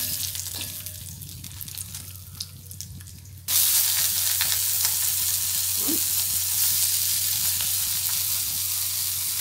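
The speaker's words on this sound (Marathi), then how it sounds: "वाटण भाजून घेते. म्हणजे आता खोबरं टाकलं." Grated coconut dropped into a hot pan and roasted for a masala paste: quiet background at first, then a sudden steady loud sizzle and hiss that continues to the end.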